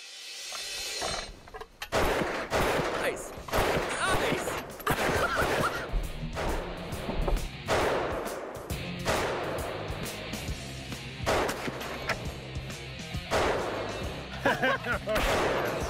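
A hand-cranked gun fires in loud, sharp bursts and single cracks at irregular intervals outdoors, with rattling mechanical clatter of the crank between shots.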